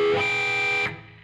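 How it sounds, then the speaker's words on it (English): An electric guitar rings a dissonant three-note chord through a wah pedal, a sustained distorted tone with a sweeping filter, then cut short. "It's basically, you're gonna need a wah pedal for this."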